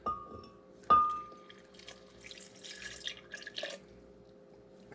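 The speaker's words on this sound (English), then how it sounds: "And we're going to pour in our grape juice." Grape juice is poured into a container over thawed blueberries and sugar: a sharp clink of the container rings out, then trickling, dripping splashes follow close by.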